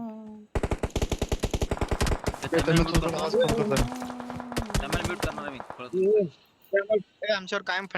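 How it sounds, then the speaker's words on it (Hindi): Rapid bursts of automatic gunfire in the PUBG battle royale game, loud and close, rattling for about five seconds, followed by voices talking over quieter shots. "फायरिंग रे फायरिंग आहे दोघं तिकडे"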